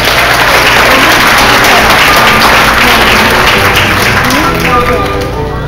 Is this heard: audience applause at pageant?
yes